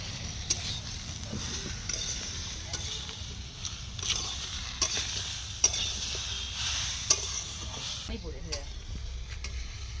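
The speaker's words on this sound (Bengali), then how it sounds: "আমটা আমার নাড়া হয়ে গেছে" Mango pieces being stirred in a pan, soft repeated scraping and light sizzling hiss at low volume, steady and continuous with occasional clinks of the utensil.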